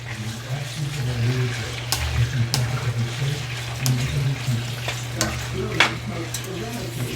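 Shrimp and onions fry together in a pan, a close continuous sizzle broken by sharp scrapes and taps as the food is stirred and turned.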